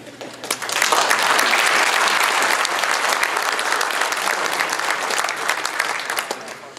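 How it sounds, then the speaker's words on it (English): Sustained applause from a motorsports banquet crowd honoring a track champion, dense and steady clapping that swells quickly and holds at a loud, even level throughout. "Again, another big round of applause for our track champion, Jeremy Pitzenbarger"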